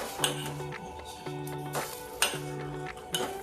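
A spoon stirs semolina papad batter in a pot, scraping and clinking against the metal in a few repeated strokes, close and moderately quiet with a faint background hum.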